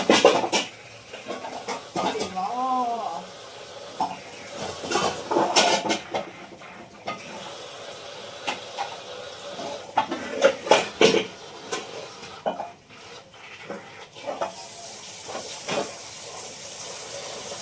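Yesterday's dishes washed and scrubbed at a sink, with clattering pots and plates, running tap water, scraping and rinsing in irregular bursts, and a brief voice murmuring in between.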